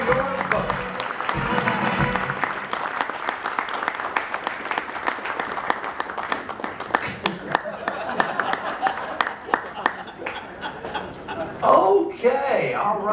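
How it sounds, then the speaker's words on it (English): A studio audience at a Dancing with the Stars show applauds loudly as dance contestants walk onto the stage, dense sustained clapping with crowd noise and some chuckling throughout, thinning toward the end. "Let's give them all a big round of applause as they come out on stage"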